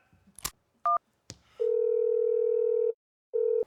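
A telephone being used to place a call gives a short keypad beep and clicks, then a long steady dial tone that stops and resumes, clear and close.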